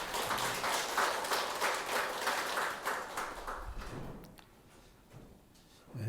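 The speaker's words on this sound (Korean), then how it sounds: "우리 하나님께 감사와 영광의 박수 올려드리겠습니다." A church congregation at a Sunday service applauds in praise of God, a full, rhythmic round of clapping that fades after about four seconds into quieter room sound.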